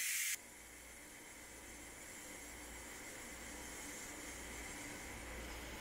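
A Ninja Foodi pressure cooker vents steam in a loud, steady close hiss that starts abruptly and holds continuously without pause.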